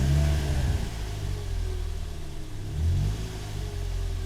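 A Toyota 1ZZ four-cylinder engine, fitted with a throttle body, gets a quick throttle blip while the car sits stationary, its engine note swelling sharply from a steady idle and dropping back, with a second brief rise near the end, close and loud.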